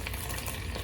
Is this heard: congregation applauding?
no